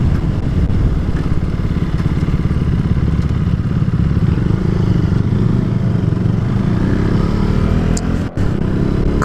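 KTM 390 Duke single-cylinder motorcycle engine droning steadily while riding, close and continuous with a low rumble and a gradual pitch rise late on.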